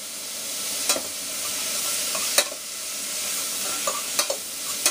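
Green beans frying in rendered fat in a pan, a steady bright sizzle with occasional sharp clicks of stirring against the pan, close and moderately loud with no voices.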